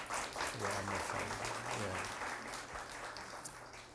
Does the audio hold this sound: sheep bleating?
no